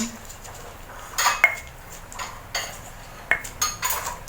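Seasoning gets mixed in a mortar with a utensil, producing sharp clinks and scrapes in irregular bursts against a quiet, faintly hissing room.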